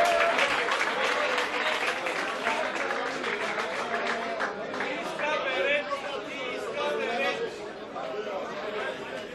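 Sustained applause for an award winner at a mini-football league awards ceremony, a dense crowd clapping continuously for several seconds with chatter and voices mixed in.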